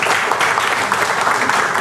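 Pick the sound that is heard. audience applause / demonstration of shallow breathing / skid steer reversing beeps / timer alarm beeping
audience applause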